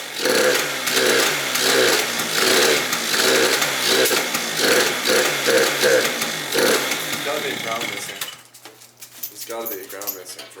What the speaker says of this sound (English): There's gotta be a ground missing for it to be backfiring like that